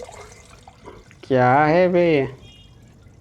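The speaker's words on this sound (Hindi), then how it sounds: "अच्छा यहाँ पे जो था वो गंदा पानी वो निकल गया" Dirty water draining away in a horror video game, a loud gushing pour lasting about a second, with someone speaking briefly before it.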